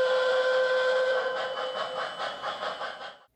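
A loud, sustained steam-style whistle from a K-Line model Baltimore and Ohio Pacific steam locomotive, with several harmonic tones, holding steady then wavering and pulsing before cutting off.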